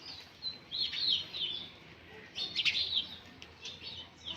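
Sparrows perched in a pruned tree chirp in quick high bursts, several birds calling in clusters with short pauses between, fairly faint against quiet outdoor background.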